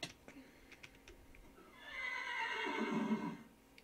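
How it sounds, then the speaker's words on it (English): A wild horse neighs in modded Minecraft survival, a single drawn-out whinny swelling in the middle and fading out, heard over faint game ambience with a few light clicks before it. "A wild horse."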